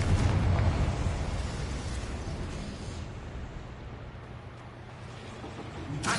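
A Confringo fire spell explodes in the Hogwarts Legacy video game, a loud, deep blast that rumbles and slowly decays over several seconds, with no talking.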